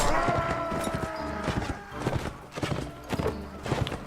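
Horse hooves clip-clop in the video game Mount & Blade Warband, a quick, steady rhythmic patter heard close over battle clatter and ambient game noise, with a horse whinny mixed in.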